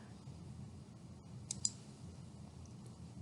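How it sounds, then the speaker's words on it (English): Two quick, faint mouse clicks close together, heard while designing a sheet metal dust pan in CAD software over a quiet room hum. "So now I click OK."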